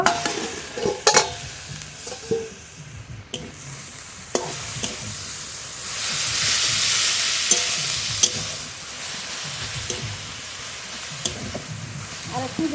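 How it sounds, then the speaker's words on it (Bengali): A spoon stirs a boal fish kalia curry in a pan after the lid comes off, with continuous sizzling and frying. Scraping clinks repeat near and loud, and the sizzle swells midway. "ঢেকে ঢেকে ভালো করে রান্না করে নেব ঢাকনা তুলে নেড়ে নেব"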